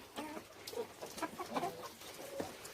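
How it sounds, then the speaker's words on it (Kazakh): Backyard hens clucking in short, irregular bursts, with several birds calling near the microphone over a soft ambient background. "Біздің тауықтарымыз."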